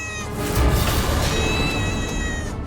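A cat gives a single long, plaintive crying meow, loud and close, sustained for a couple of seconds with nothing else over it.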